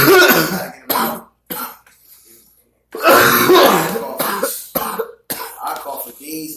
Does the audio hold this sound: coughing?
yes